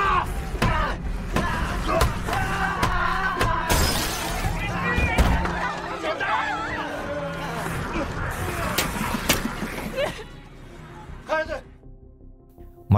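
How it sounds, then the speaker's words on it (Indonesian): A glass door is smashed in a zombie film scene: loud crashes and shattering glass break through a dense, chaotic mix of shouting voices and commotion, ending in a few sharp impacts before sudden quiet. "berjuang keras memecahkan pintu kaca yang menghalangi mereka"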